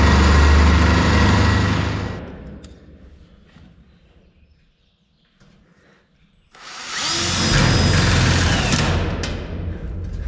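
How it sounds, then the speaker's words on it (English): A loud power drill whines for about two seconds, falls quiet with faint clicks, then roars again for several seconds, close up, drilling holes in a metal grain bin floor. "we have to drill our own holes for this"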